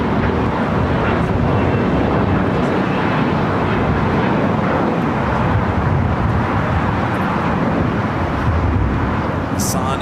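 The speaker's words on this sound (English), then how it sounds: "Looking good for a south side takeoff for Austrian and" An Austrian Airlines Boeing 777 taking off from the south side at LAX, a loud, steady jet engine roar filling the whole stretch, with a voice talking over it.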